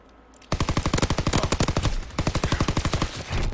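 Gunfire in a WWII video game rings out as a sudden, loud, close automatic stream of rapid evenly spaced shots, broken by one brief pause before a second burst, with no talk over it.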